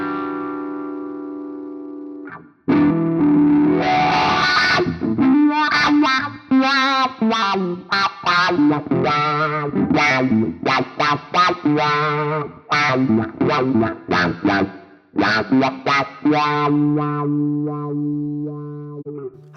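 Electric guitar through a Neural DSP Nano Cortex with a subtle reverb setting, played loud and distorted: a sustained chord rings out, then a busy run of picked notes and chords with a slight tail, ending on held chords.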